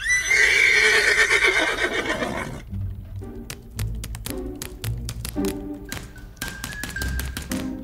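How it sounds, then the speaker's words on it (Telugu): A horse gives a loud, close neigh lasting a couple of seconds, then sharp taps and clip-clop-like knocks follow in an uneven rhythm. "గుర్రం మీద వెళ్తున్నారా?"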